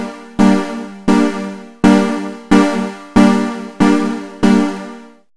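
A retro synth patch from Serum with a chorus effect plays seven bright, harmonically rich notes in a steady rhythm, each with a sharp attack and a gradual decay, alone with no other sound.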